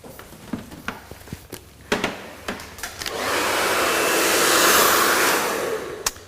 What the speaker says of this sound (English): It's always important as well that you get a strong blow dryer that's got some good wattage.